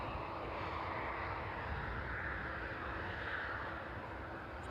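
A Jet2 airliner lands at East Midlands Airport in the evening with a steady, loud roar of jet engines that holds level throughout, close and continuous, with no talk.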